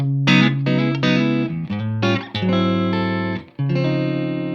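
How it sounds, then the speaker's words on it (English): Clean electric guitar tone with no breakup, a series of bright chords struck one after another with clear attacks and short gaps, played alone without talk. "My clean tone sounds like this."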